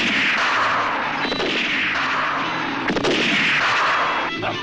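Pistol shots in a western film ring out in loud, booming bursts with long echoing decays, several reports spaced about a second and a half apart over a dense, reverberant background, with no talking.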